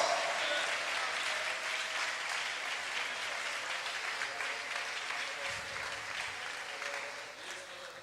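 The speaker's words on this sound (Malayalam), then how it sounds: "ദൈവത്തിൻ്റെ കൃപയെ അനുഭവിച്ചിട്ടുള്ളവർ നന്ദിയുള്ള ഹൃദയത്തോടെ കൈയടിച്ച് ദൈവത്തിന് സ്തോത്രം ചെയ്യാം" A church congregation at a Malayalam Christian service claps in praise, giving a sustained, even wash of many hands that stays steady at moderate loudness and eases slightly at the end.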